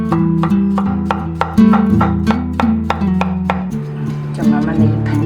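A knife chops cucumber on a cutting board into thick slices about one centimetre wide, giving a steady run of close, sharp cuts, about a dozen evenly spaced strokes, with harmonic background music underneath.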